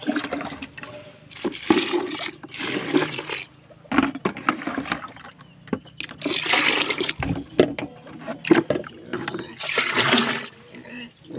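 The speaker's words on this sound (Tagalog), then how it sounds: "So yan, lalagyan na natin siya ng tubig." Water pours and splashes into a container in repeated bursts, loud and close, with a person talking intermittently between the pours, while preparing to feed piglets.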